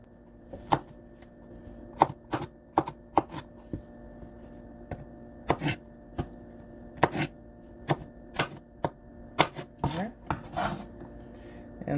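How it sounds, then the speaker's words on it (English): A knife chops garlic on a cutting board in a kitchen: sharp, close knocks come in irregular clusters over a quiet background hum, with no talk. "So this recipe also calls for garlic. So I'm going to not mince this, but just chop it up a bit."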